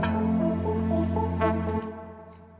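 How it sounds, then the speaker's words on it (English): Trumpet sample from Citrus played in FL Studio: a brassy held tone with short melodic notes moving above it, sustaining strongly before cutting to a softer fading tail. "took a trumpet from Citrus, and it sounds like this."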